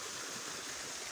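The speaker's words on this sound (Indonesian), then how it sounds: "terdapat taman-taman dan air terjun mini ini" Water pours steadily in a small garden waterfall behind a restaurant in Kuningan, a continuous close hiss and rush of flowing water with no voices.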